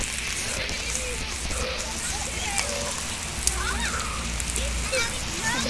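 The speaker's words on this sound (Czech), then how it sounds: "Prší, takže..." Rain falls steadily outdoors as a constant soft patter, with people talking and children's voices nearby.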